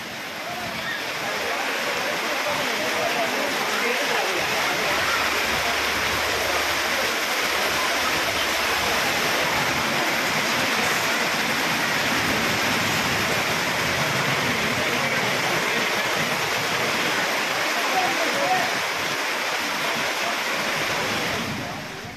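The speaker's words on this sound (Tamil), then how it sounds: "இதனால் பல்வேறு பகுதிகளிலும் சாலைகளில் மழைநீர் பெருக்கெடுத்து ஓடியது" Heavy rainwater gushes along roads during a thunderstorm downpour in Sathyamangalam, Erode district, a loud continuous broadband rush of flowing water with no break for over twenty seconds.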